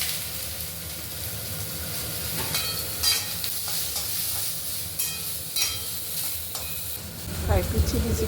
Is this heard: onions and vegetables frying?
yes